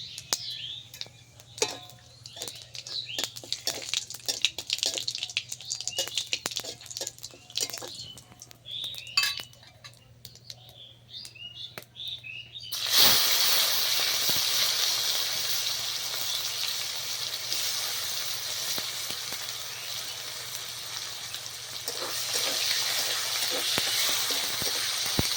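Chopped tomato hits hot oil tempered with whole cumin, bursting into a loud, steady sizzle that keeps frying after some quieter clinks and kitchen sounds, while a voice speaks over the cooking.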